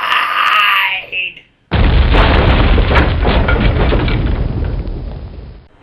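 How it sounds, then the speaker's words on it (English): An explosion sound effect in a Justice League comic retelling: after a stretch of shouting and a brief silence, a loud sudden boom hits and roars on for several seconds before fading. "Hal constructs a safe to protect him and Batman from the explosion"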